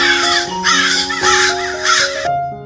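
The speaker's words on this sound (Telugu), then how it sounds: "మళ్ళీ కొంతసేపటికి కాకి పిల్లలు అరవసాగాయి." Crow chicks caw loudly and close by, four harsh, wavering calls in quick succession, the sound of an animated children's story, with nothing else in the background.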